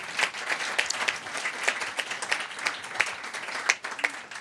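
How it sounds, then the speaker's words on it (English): A seated audience at a National Academy of Medicine panel session claps steadily for the panelists, a dense, moderately loud round of many hands with a few sharper claps standing out, no voices over it. "Another round of applause for this panel."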